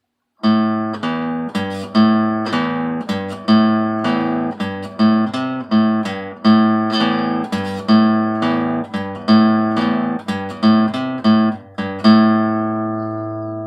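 Guitar plays a slow pentatonic riff from a song, a steady series of about twenty plucked, ringing notes and chords in a repeating pattern, heard solo and close with the last note left to decay.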